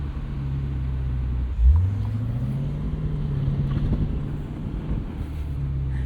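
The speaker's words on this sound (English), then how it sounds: "You can hear that limited slip. Those tires scrubbing for traction." A 2024 Lexus IS 500 V8 sport sedan, its limited-slip differential working as the tires scrub for traction, giving a low, loud rumbling drone with a brief rising swell, close and steady, with no voices.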